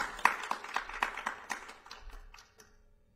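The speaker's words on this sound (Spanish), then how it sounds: "Un aplauso, por favor" Applause from a small concert audience, a modest cluster of hand claps with sharp individual smacks that gradually thin out and fade over a few seconds.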